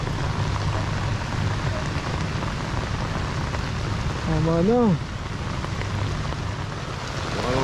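Steady rain pours during a storm while fishing, a dense continuous hiss throughout, with a voice speaking briefly over it near the middle.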